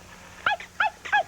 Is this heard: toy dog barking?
yes